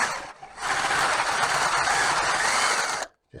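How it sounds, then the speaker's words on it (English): A power drill with a boring bit countersinks a hole in wood, grinding loudly and steadily for about two and a half seconds before stopping, then a short trailing buzz. "I'm going to countersink the top with a nice boring bit here."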